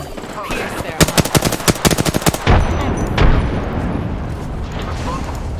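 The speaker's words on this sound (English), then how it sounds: "Smart bullets landing." Rapid automatic gunfire from smart bullets in a sci-fi shooter video game, a dense burst of loud shots lasting over a second, followed by a heavy boom and a lingering rumble.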